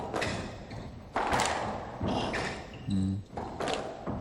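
Squash ball struck in a professional World Open match, Jansher Khan against Chris Dittmar in 1989, with several sharp thuds off the court walls in quick succession and a commentator's voice over the rallies.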